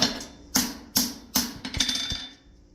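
A hammer strikes hot steel being forged into a plain stamp baby slider horseshoe, four sharp ringing blows in a steady rhythm, then a quicker scatter of lighter taps that fade out.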